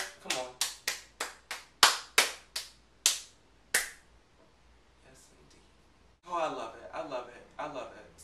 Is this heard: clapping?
yes